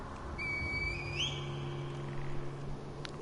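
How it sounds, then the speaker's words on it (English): A reed whistle blown in the Sekiro video game gives one thin, rising whistle tone over steady low game ambience. "Call the divine air with a reed whistle."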